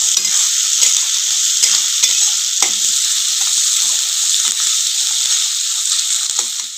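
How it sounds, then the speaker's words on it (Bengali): Chopped onion and garlic fry in a pan with a loud, steady sizzle, broken by scattered clicks and scrapes from stirring. No voices are heard. "রসুন আর পেঁয়াজটা দিয়ে আমি একটু ভালো করে ভেজে নেবো।"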